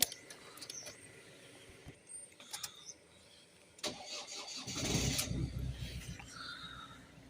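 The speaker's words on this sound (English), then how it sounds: "so we have the engine started there now" A car engine with a faulty alternator cranks in short bursts, then catches and settles into a steady idle, close by, with a few clicks and key sounds before it fires.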